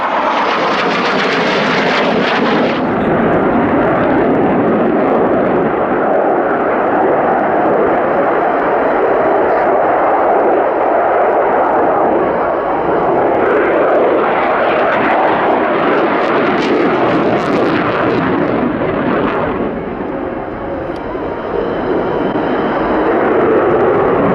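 Display aircraft at the Royal International Air Tattoo, a loud, sustained jet roar that stays near and dominant throughout, surging and shifting in pitch as the plane passes and turns.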